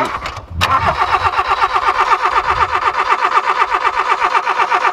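Ford Capri with a B6 turbo engine cranking without starting, a loud, close, rhythmic starter-motor churn that follows a brief pause and continues steadily without catching.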